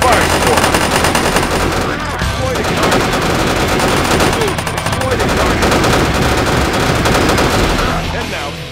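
Sustained rapid gunfire from a military shooter video game providing fire support, dense bursts of automatic weapons rattling loudly and continuously throughout with no pauses.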